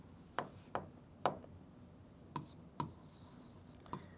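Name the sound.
writing a maths solution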